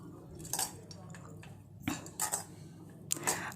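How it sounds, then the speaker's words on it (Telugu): Bhel puri, a puffed rice snack with lemon, is mixed in a bowl: light clinks and scrapes of a spoon against the dish come in short bursts, close up and fairly soft. "ఒకసారి బాగా మిక్స్ చేసేసుకోవాలి."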